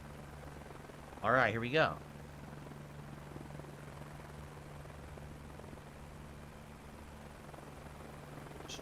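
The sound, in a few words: helicopter flying in a video game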